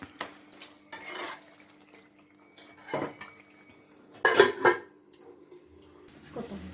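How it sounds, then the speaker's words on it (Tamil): Metal lid set onto a pot of green chili chicken on a home stove, with clattering metal knocks and scraping, a ringing clank in the middle, and faint low hum between. "இது ஒரு நிமிஷம் மட்டும் நான் அப்படியே மூடி வைக்கிறேன்"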